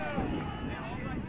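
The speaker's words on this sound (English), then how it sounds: "Still really windy." Steady, broad wind roar buffeting the microphone throughout, a constant rushing noise with no pauses.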